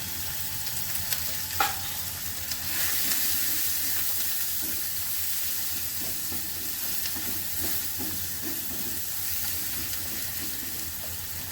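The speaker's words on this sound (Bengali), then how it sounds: "পেঁয়াজটা একটু ভাজা হবে।" Onions fry in a pan with salt, turmeric and ginger, with a constant close sizzle and occasional scraping and stirring strokes. There is no speech.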